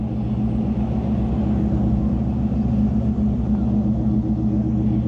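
A supercar engine idles with a deep, steady, rumbling drone that holds an even level throughout and sounds close and loud.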